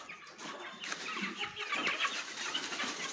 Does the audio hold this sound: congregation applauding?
no